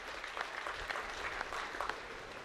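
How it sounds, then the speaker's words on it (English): A crowd claps steadily at a college festival inauguration, a dense patter of many hands at moderate distance, sustained without pause and no talking over it. "Can we have a round of applause?"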